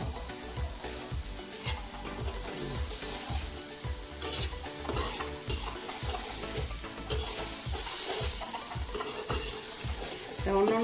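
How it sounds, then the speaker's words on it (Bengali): Spice paste with added water is stir-fried in a pan for a Barishal-style prawn fritter dish, giving a steady low sizzle with rhythmic scraping strokes of a spatula repeating about every half second. "পানি দিয়ে নিলে মশলাটা সুন্দর করে কষাতে হবে।"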